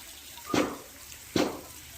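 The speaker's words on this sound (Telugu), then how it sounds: "గోరెంటాకు చెట్టుకు నీళ్ళు పడతాడన్న." On a farm, water is poured onto a henna plant in two short splashing gushes about a second apart, near and moderately loud against a quiet outdoor background.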